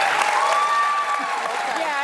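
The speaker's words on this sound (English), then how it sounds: "Listen to all of these hyenas clapping" A studio audience claps through a short stretch while a voice talks over it, the applause steady and mid-level beneath the speech.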